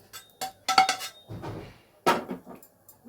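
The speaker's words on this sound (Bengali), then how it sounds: "আমার কাছে একটি হামানদিস্তা আছে, তার সাহায্যে আমি মশলাটাকে গুঁড়ো করে নেব" A spice pounded and ground in a mortar and pestle in a home kitchen, heard as a few loud, close knocks and scraping clatters in irregular bursts with short pauses between.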